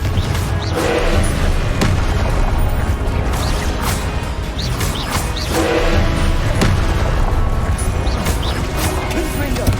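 Repeated booming spell explosions from the Confringo spell in Hogwarts Legacy, with heavy crashes and thuds layered over loud, dense game effects and some speech mixed in.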